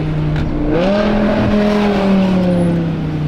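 A car fitted with a Valvetronic exhaust revs up, its deep, loud engine drone climbing in pitch and holding a steady, throaty tone close by, without any talk.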